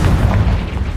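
A Confringo spell detonates in Hogwarts Legacy as one short, loud, deep boom with a rumbling low-end burst that fills the whole moment.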